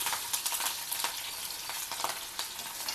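Green chillies fry in hot oil with a loud, steady sizzle broken by quick crackles and spits, heard close up.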